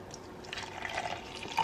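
Water pours steadily into a cup to mix with Nescafe Gold instant espresso, a soft continuous trickle close by with no speech.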